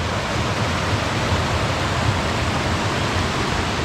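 Thompson River rushing steadily beside a trail bridge, a constant broadband roar of flowing water, close and loud, with no voices or other breaks.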